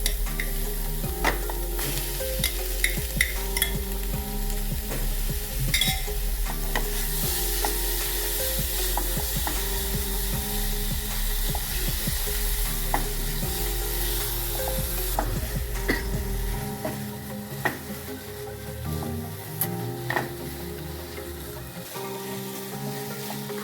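Spinach and pea paste for hara bhara kebab frying in a pan over a high flame, a continuous close sizzle broken by frequent scraping stirs and clinks that lasts throughout.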